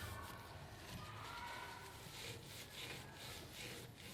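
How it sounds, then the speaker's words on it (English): Rubbing dried toothpaste off the wood casing of a Yamaha P22 school piano, a faint continuous rhythmic scrubbing of cloth on wood, close up with no pauses. "So I'm just going to rub off the toothpaste that was globbed on the wood."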